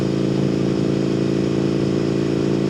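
Indian FTR 1200 motorcycle idling with only the catalytic converter fitted as exhaust, a steady, loud, close burbling engine note that runs unbroken throughout.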